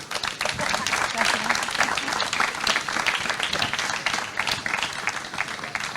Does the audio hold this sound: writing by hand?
no